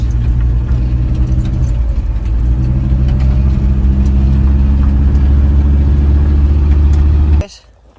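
A diesel-powered Chevrolet S-10 pickup fitted with a bigger turbo idles loudly and steadily up close for about seven seconds before cutting off abruptly, with no talk over it.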